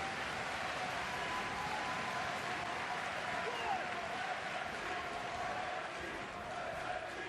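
Arena crowd at a Toronto wrestling match roaring and applauding, a broad sustained wash of cheers with commentary voices faintly underneath.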